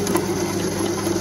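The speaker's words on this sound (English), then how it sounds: "You hear it making a clunking noise now." A Myford lathe taking a cut across a weld gives a brief, close mechanical churning with rapid, uneven clunking knocks under the steady machine noise.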